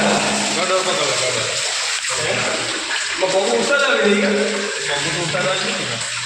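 Water pours from above into the inside of a well, a continuous splashing gush with a hollow echo, while people talk over it nearby.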